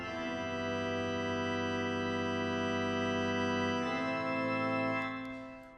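Organ chords play at a flat, unchanging volume with no expression pedal swells, held steadily for several seconds before a chord change and a gentle fade, close and alone.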